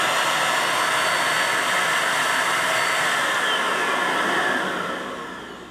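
A Metro ED500 DataVac electric duster blows at full power, a loud, steady, close rushing whoosh that holds for about five seconds before starting to wind down at the end.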